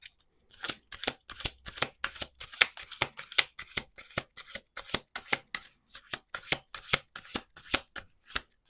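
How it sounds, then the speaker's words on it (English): Rapid, crisp riffling of playing cards being shuffled, repeated flurries of sharp snapping clicks in a steady rhythm, close up. "I'm just shuffling like normal."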